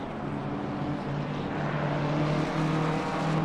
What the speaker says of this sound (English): I think the cars also might be a bit too loud here